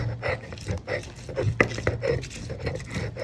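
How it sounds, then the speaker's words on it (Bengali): A knife cuts shrimp on a board, producing soft irregular taps and scrapes, close and moderately quiet, with faint background noise. "এই যে চিংড়িগুলোকে সুন্দর করে কেটে নিচ্ছে"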